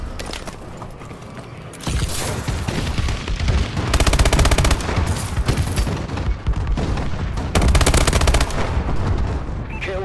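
Dense, loud battle noise in Call of Duty: Advanced Warfare, with sustained machine-gun bursts layered over booming explosions from an airstrike, building in intensity and staying continuous throughout.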